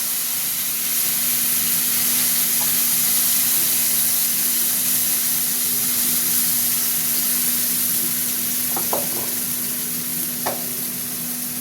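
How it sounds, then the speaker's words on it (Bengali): Tomato and onion paste fries in hot oil with dry red chilies and bay leaf, giving a steady close sizzle and hiss throughout with a few faint utensil clicks near the end. "গরম হোক তেলটা, টমেটোর এটা তুলে দিলাম।"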